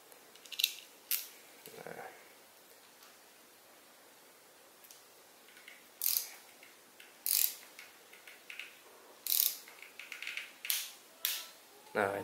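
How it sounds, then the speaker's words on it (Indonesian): A torque wrench tightening the bolt of a bicycle V-brake to about 5 Nm, a series of short sharp ratcheting clicks and metallic snaps coming in bursts, quicker and more regular toward the end, with faint handling noise between. "kita gunakan kunci torsi ya teman-teman"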